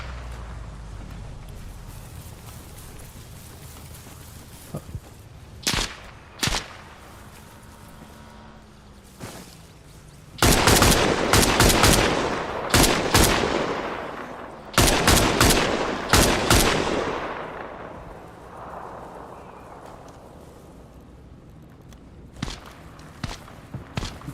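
Gunfire in the survival video game DayZ: a few sharp isolated shots, then several rapid bursts of automatic fire in clusters, with quieter single reports trailing off and a low background hum.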